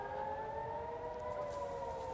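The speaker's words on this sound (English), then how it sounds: "We can hear the siren." An air raid siren sounds steadily over Jerusalem, a sustained wailing tone heard at a distance, faint and continuous with no voices over it.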